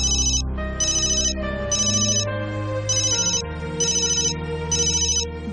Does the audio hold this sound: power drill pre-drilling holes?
no